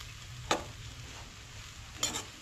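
Grated coconut being dry-roasted and stirred in a pan for a Goan crab curry: two brief scraping strokes stand out over a quiet, steady low background, with no voices.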